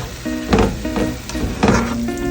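Three ounces of scallions hit a hot pan and sizzle, with bursts of crackling frying and stirring over a steady hiss, close and fairly loud.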